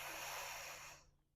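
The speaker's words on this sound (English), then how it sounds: "Take a breath in." A single soft, airy inhalation during a yoga session, close but quiet, holding steady for about a second before fading into near silence.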